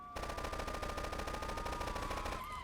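Rapid automatic AK rifle fire in the video game GTA 3 Definitive Edition, a sustained burst of evenly spaced loud shots running continuously for about two and a half seconds with no talking.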